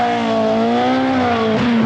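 An Opel rally car at the 1982 Manx Rally emerges through mist on a stage, its engine holding a loud, close, steady drone that rises slightly in pitch before a brief change near the end, with no talking.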